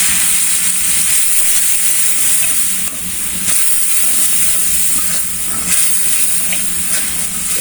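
Ground spices, turmeric, chili, cumin, ginger-garlic paste and salt, sizzle and fry in hot oil in a pan, a steady loud hissing crackle with stirring scrapes running throughout, with no voices.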